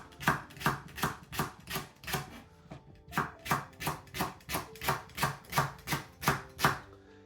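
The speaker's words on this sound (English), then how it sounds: "So, leeks, 3 of these leeks. Just gonna slice them fully lengthways." A knife slices three leeks lengthways on a cutting board for a Bulgarian kavarma, making about seventeen steady, evenly spaced chopping strokes, close and crisp, with a short pause partway through and no talking.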